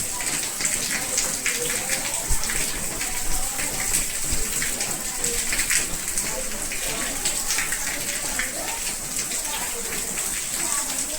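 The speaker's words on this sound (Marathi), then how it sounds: "हा पाऊस काही कमीच होत नाही आहे बघा किती पाऊस लागतो आहे कोकणामध्ये" Heavy monsoon rain pours steadily in the Konkan countryside, a dense, continuous hiss of drops drumming on surfaces close by, unbroken for the whole stretch with no voices.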